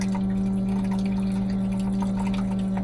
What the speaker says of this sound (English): Blow all of that water out of that line.